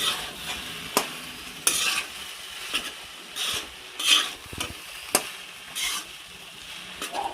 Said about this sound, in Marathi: तर आता राईस मिक्स करून घ्यायचं आहे मस्तपैकी